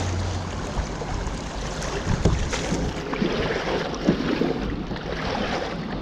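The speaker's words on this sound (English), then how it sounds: "I'll paddle through it." A kayak moves through a spring fishing creek with soft, irregular water swishes and splashes over a windy, breezy background, fairly close and with no talking.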